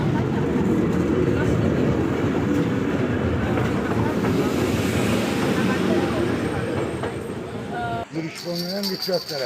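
A train passes close by near a road crossing, with a loud continuous rumble and rattling wheels that fade out near the end. Voices sound under it.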